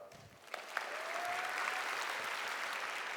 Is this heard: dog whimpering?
no